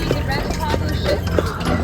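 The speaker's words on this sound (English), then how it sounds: "this is a horse" A horse's hooves clip-clop on a Vancouver street, a regular run of sharp clopping beats close by, with people talking over them.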